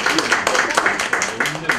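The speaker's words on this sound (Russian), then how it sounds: "Аплодисменты, маме. Поддержите," Guests at a wedding applauding the bride's or groom's mother, steady brisk clapping close by with voices underneath.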